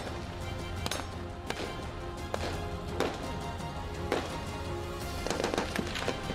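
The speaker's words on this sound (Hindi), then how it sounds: "इसके बाद हथियार बंद सैनिकों ने गोलियों की बौछार करते हुए अपनी ताकत दिखाई।" Volleys of gunfire from Taiwanese soldiers at a war exercise, a string of sharp cracks and bursts that crowd together toward the end over steady background noise.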